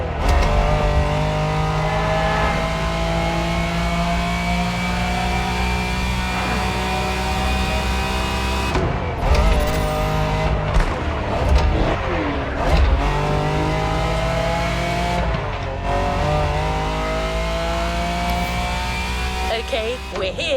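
A Lamborghini engine in The Crew Motorfest racing game roars steadily and loudly throughout, with sustained revving and shifting pitch, brief surges and possible tire squeal midway, and no talk over it.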